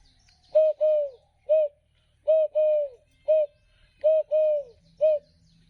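A person imitates a dove's call by voice, producing soft, low cooing notes in a steady rhythm of about eight short and drawn-out coos, close and clear against a quiet background.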